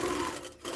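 A Baby Lock Gallant XL long arm quilting machine stitching a row, giving a brief steady mechanical whir that stays loud and close throughout with no voices.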